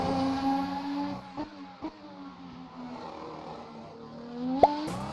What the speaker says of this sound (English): Jumping back into Assetto Corsa, it's time to test the curbs